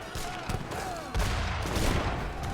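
Bursts of musket gunfire and booming cannon shots from an Age of Empires 3 battle between Ottoman and Japanese armies, a dense clatter of shots with a heavier boom partway through.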